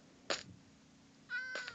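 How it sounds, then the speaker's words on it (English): A cat in the Minecraft video game meows twice, about a second apart. The first call is short and sharp, and the second is longer and drawn out. Both are fairly clear against a quiet background. "Ooh, orange cat."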